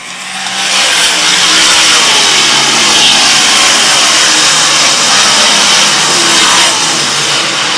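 A field of race cars roars off at a green-flag start, the engines swelling into a loud, sustained, close roar with no talking over it.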